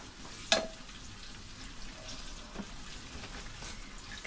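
Carrots fry together with onions in oil inside an Afghan kazan, giving a steady close sizzle and crackle with a sharp spatter near the start and no talk.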